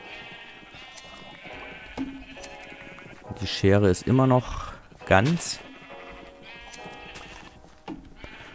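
A flock of sheep in Minecraft bleats repeatedly in the background while someone talks over them. Several calls come in quick succession in the middle and stand out loud and near.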